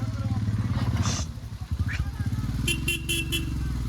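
A motorbike engine idling and revving on a narrow mountain road during a monsoon ride, a close steady rumble with a few short horn toots and people talking over it.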